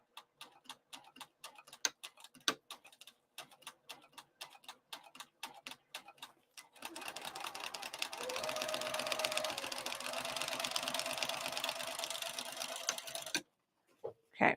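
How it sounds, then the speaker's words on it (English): A sewing machine stitches the exterior fabric of a crossbody bag. Slow separate ticks come first, then a steady loud run of fast stitching for about seven seconds that stops abruptly. "Once again, continue to stitch on the exterior fabric."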